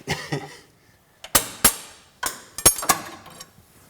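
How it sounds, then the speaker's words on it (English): Hammer blows knock old dowels out of a clutch bellhousing, a few sharp metallic strikes in short clusters, close and loud, with pauses between groups. "right now I need to pull the old dowels out"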